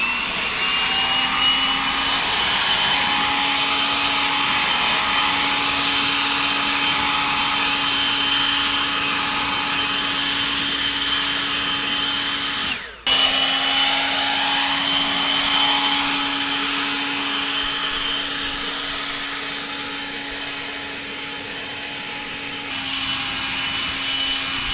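A DeWalt 60V cordless leaf blower whirs close and steady with a high whine, briefly dropping out midway before resuming, then easing slightly lower toward the end.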